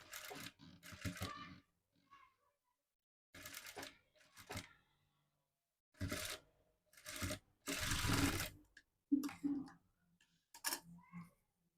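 A sewing machine stitches cloth in short bursts of rapid ticking, starting and stopping repeatedly with near silence between runs, close and fairly quiet.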